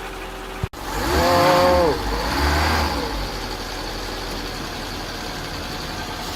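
A Citroën BX engine runs after a jump start: a sharp click, then a loud rev that swells and settles into a steady low idle, with a brief exclamation from someone nearby.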